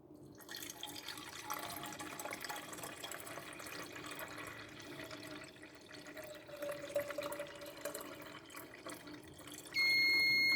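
Water being poured into the coolant reservoir of an Opel Astra G or H, a continuous trickling fill with light splashing running for about ten seconds, fairly quiet and with no talk, ending in a louder burst.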